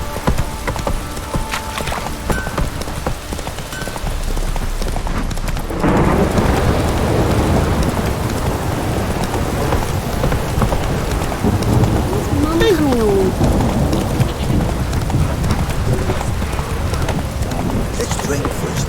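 Horse Roach galloping through a thunderstorm in The Witcher 3, hoofbeats under heavy rain and rolling thunder, with brief voices in the mix.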